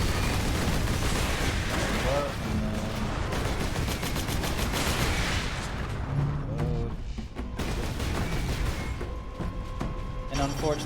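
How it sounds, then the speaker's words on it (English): Turrets firing in Warhammer 40,000: Space Marine, a dense stream of rapid gunfire and booms running throughout and layered under a voice talking over the game. "we gotta stop the turrets from shooting the employees"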